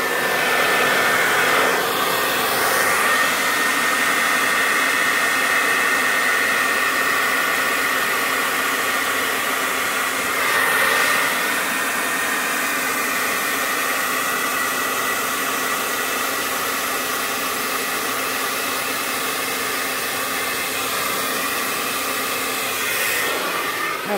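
Blower drying a 16x20 acrylic pour painting, a loud steady rushing whoosh held close and continuous throughout with only slight swells.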